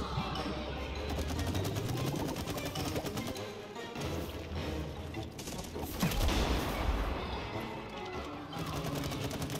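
Rapid bursts of gunfire from the It Takes Two video game, during the hand-to-hand fight against the Squirrel, rattle continuously with clanks and crashes, under faint excited voices.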